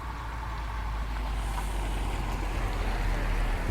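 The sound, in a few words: cars stopping on the road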